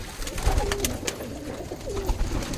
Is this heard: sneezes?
no